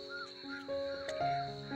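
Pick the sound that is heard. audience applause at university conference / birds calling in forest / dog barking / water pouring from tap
birds calling in forest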